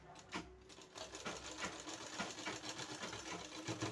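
A sewing machine runs in a steady, continuous whir while stitching a potli button onto a sleeve. The sound is faint and close, with no pauses or talk.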